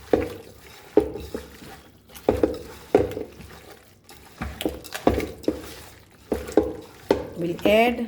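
Chicken biryani ingredients are mixed in a pot with a spoon, giving regular scraping, sloshing strokes about once a second, close and clear, with a voice speaking briefly near the end.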